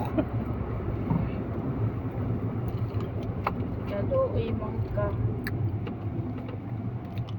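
A car backs slowly out of a narrow dead-end alley, its engine giving a steady low hum throughout with faint scattered background noises and a brief spoken remark.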